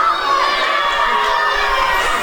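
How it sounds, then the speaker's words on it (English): A live audience of fans at a TSW wrestling show cheers and shouts in a steady, dense roar of crowd noise with no pauses. "Tino Valentino and the fans of Soda Pop there cheering him on"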